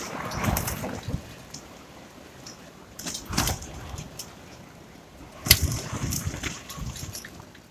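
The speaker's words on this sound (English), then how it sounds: "That is very, very windy out there." Gusts of wind buffet the microphone in bursts with rumbling thumps, quieter gaps between them, outdoors and close.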